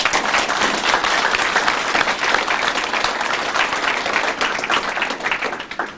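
Sustained audience applause at the completion ceremony for Daecheon High School's relocated campus, with dense steady clapping from a large crowd throughout, fading slightly at the end.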